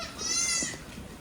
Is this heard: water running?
no